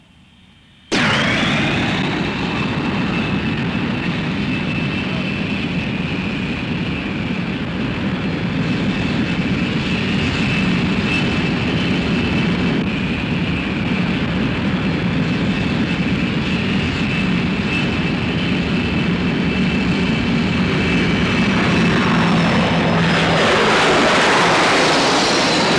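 A loud, continuous jet roar from RAF display team aircraft flying overhead, starting abruptly and sustained for over twenty seconds with a steady, rushing high-pitched whine.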